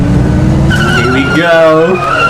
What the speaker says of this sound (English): The car engine roars and it unleashes onto the road. It accelerates up with white smoke rising from the wheel spin.